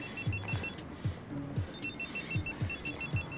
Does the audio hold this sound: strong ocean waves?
no